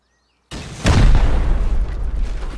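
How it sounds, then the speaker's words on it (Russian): A rocket thrown and exploding in the survival video game Rust, heard as a sudden loud boom that rolls on into a long, rumbling roar with no talk over it. "давайте сюда ракету тогда кинем. Кинь ракету."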